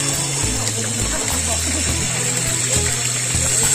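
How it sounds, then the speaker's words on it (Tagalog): A 1hp Goulds submersible pump gushes water into an overhead tank in a strong, steady rush, with people talking over the flow. "Ang lakas ng tubig."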